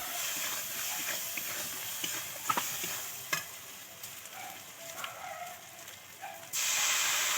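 Chopped tomato drops into frying chili and cumin spices in a pan, with soft stirring scrapes and clinks over a quiet sizzle, then a louder hiss bursts up near the end.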